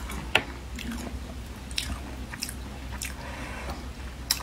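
Close-miked ASMR mukbang chewing of pig brain: a sharp bite near the start, then soft, squishy mastication with faint wet clicks, and another crisp bite at the end, all quiet and without talk.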